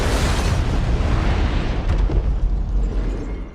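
A bomb goes off in an action series scene: a loud, sustained, broadband explosion with a deep rumbling low end, rolling on for several seconds before slowly fading, with no talk.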